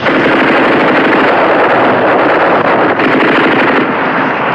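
Soldiers' rifles fire in a 1971 film scene, producing a dense, continuous barrage of loud, rapid gunshots that fills the whole stretch with no voices.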